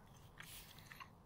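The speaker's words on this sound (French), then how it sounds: "j'ai croqué un petit peu l'œuf" Someone bites into a chocolate Easter egg outdoors, with a few faint, close crunchy bites over quiet background noise.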